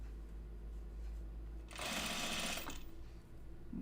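A sewing machine stitches through thick denim jeans in a single rapid whirring burst of about a second, close up, framed by quiet room hum before and after.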